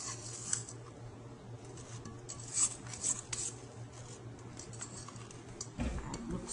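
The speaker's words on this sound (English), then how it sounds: "And then we'll scrape down the bowl, be sure that everything is mixed evenly." A spatula scrapes down a mixing bowl of chocolate chip cookie dough, producing faint rasping strokes and a few light taps at close range in a quiet kitchen.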